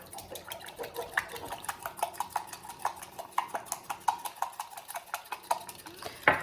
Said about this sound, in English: crack my egg, get that whisked together